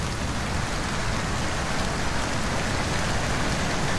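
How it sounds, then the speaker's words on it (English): Rain in the video game Skyrim, a dense, even hiss of steady rainfall on surfaces filling the whole stretch without a break, loud and close. "It's raining again."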